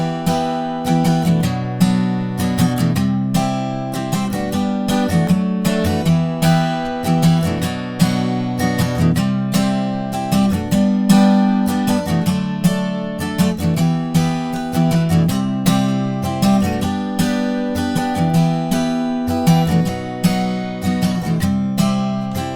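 An acoustic guitar strums the chorus of a song in a down, down, up pattern, steady rhythmic chord strokes, close and clear, alone with no voices over it.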